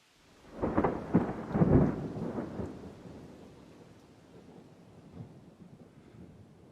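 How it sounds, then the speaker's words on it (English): A stage play's thunder sound effect cracks and rolls in several heavy bursts, then settles into a faint sustained rumble with rain-like hiss beneath. "Listen to the thunder of the sky."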